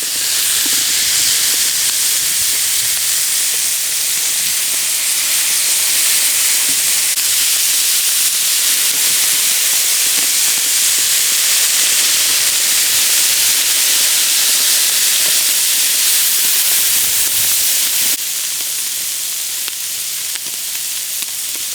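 Duck breasts laid skin-down on an oiled grill grate sizzle in a steady, loud hiss that holds without a break, then eases slightly near the end.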